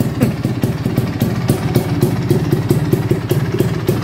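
A Vespa P200XE scooter idles close by, its engine putting out a rapid, uneven putter with a rattling edge; no voices.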